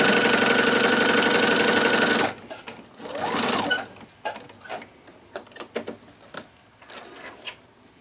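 A sewing machine stitching binding onto a quilt, running loud and fast for about two seconds before stopping, followed by quieter fabric handling and small clicks.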